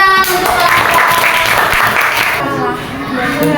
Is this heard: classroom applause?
yes